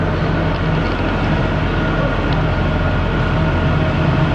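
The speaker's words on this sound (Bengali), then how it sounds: "কিছু একটা অ্যানাউন্সমেন্ট হচ্ছে এক্ষুনি জাস্ট এলো ট্রেনটা" A Kalka-Shimla toy train arriving at Shimla station, a loud, steady rumble of rail cars with a low mechanical drone throughout, no voices heard.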